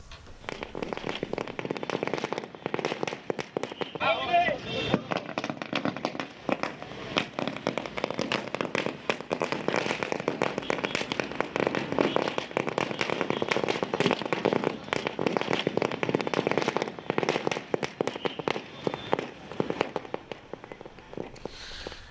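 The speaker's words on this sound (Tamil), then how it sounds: "பொள்ளாச்சியில் பல்வேறு பகுதிகளில் பட்டாசு வெடித்து இந்த தீர்ப்பை கொண்டாடக்கூடிய" Firecrackers bursting across Pollachi in celebration of a court verdict, a dense, continuous crackle of many small pops at varying distances, loud throughout with no talk.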